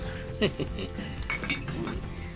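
Glasses and cutlery clink lightly together in a toast during a drinking gathering, a few sharp chinks over a quiet room murmur.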